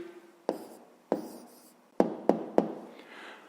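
Pen strokes and taps on paper as a math answer for rectangle and square areas is written down, a few sharp separate contacts with scratchy writing between them, close and quiet with no talk.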